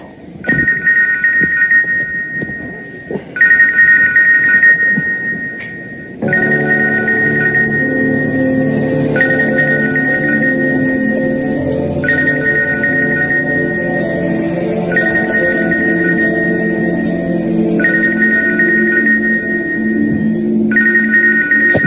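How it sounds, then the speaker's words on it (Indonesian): A phone ringtone rings repeatedly in regular bursts, loud and close, with a low rumbling background coming in partway through. "HP ku bising kali itu, Dur."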